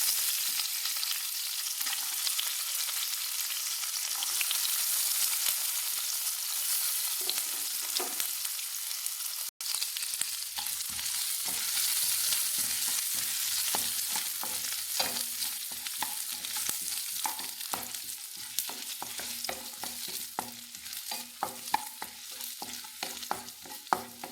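Ginger and garlic fry in a pan for a star fruit (chambakka) pickle, a steady close sizzle with repeated scraping stirs that grow more frequent and clattery in the second half, with no voices.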